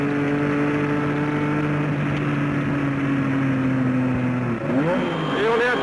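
Onboard race car at Le Mans accelerating hard toward the Arnage curve at around 300 km/h in fourth gear, a loud steady engine drone with sustained harmonics, then rising and shifting pitch sweeps near the end as revs change.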